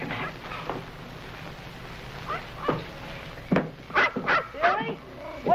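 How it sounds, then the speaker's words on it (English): A dog gives a series of sharp barks and yips indoors, a few spaced out early and then a quicker cluster near the end, close and clear over a quiet room. "Billy, what are you barking at now?"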